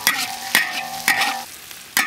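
Pork being stir-fried in a wok, loud close sizzling punctuated by four regular, ringing metal spatula scrapes against the wok about half a second apart.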